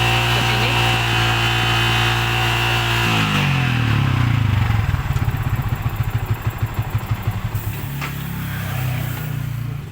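Yamaha Vixion motorcycle engine with a charging fault, idling steadily and then revved, rising into a loud throbbing pulse before settling back, heard up close.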